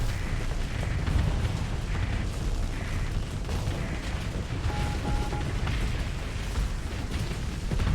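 Ship hulls blowing apart during a Starsector space battle make a dense, continuous roar of booms and rumbling blasts that overlap without pause, loud and steady, with no voices present.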